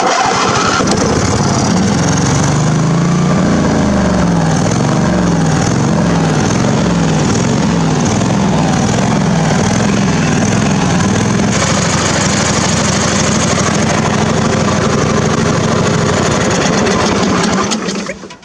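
A Husqvarna Hydro riding mower engine runs loud and close with a rough, shaking idle that seems to come from loose motor mount bolts. It drones continuously for the whole stretch, then cuts off at the end.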